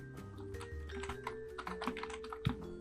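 Computer keyboard keys tapped in quick, uneven bursts while Java code is typed, clicks close and clear above a steady background of music or hum, with no speech.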